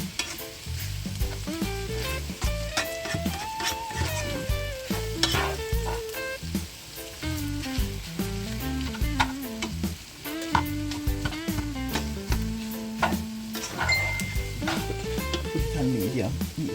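Onions and corned beef sizzling in a pan on the stove while a utensil stirs and scrapes through them, a continuous close frying hiss with knocking stir strokes, under background music and occasional talk.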